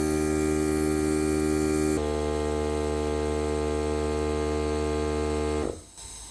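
A Fantik X9 portable battery-powered truck tire inflator compressor drones loudly and steadily up close with a buzzing motor tone, then its pitch sags and the sound drops abruptly near the end as the hose is kinked.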